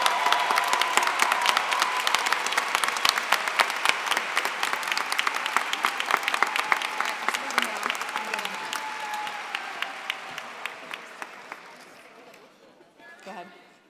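A large convocation audience at a school district event claps for the Teachers of the Year, with sharp, dense applause that starts loud and slowly thins and fades over about fourteen seconds.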